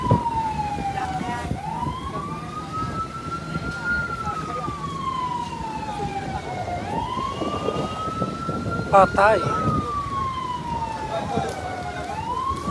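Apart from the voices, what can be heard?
fire truck sirens at a large fire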